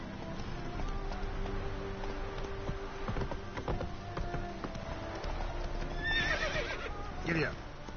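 In Witcher 3, a horse ridden through the city clip-clops steadily at close range, then lets out a loud, shaky neigh near the end. Someone speaks over the hoofbeats.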